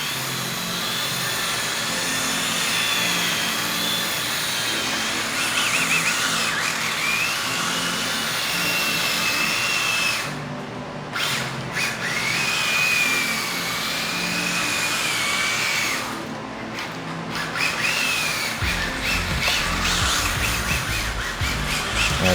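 A Mini-Z MA-020 AWD RC car drifting on a test drive, its small electric motor whining steadily and rising and falling in pitch, with brief drops in sound as it turns away.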